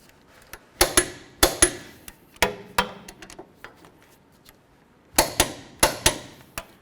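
A wrench tightens the caliper bracket bolts on a GMC Envoy rear brake, making sharp metallic clicks and knocks in irregular clusters. The clicks are close and fairly loud with quiet gaps between them.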